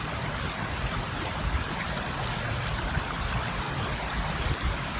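Water rushes and burbles steadily nearby, a constant broadband flow like a creek running over rocks, with no voices.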